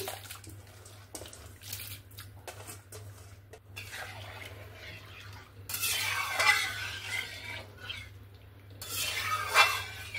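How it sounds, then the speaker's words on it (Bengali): A spoon stirs washed mixed lentils in water in a cooking pot, starting with soft intermittent scrapes and swishes and ending in two louder bursts of sloshing over a steady low hum. "ডালটা দিয়ে 1-2 বার নাড়াচাড়া করে দিলাম।"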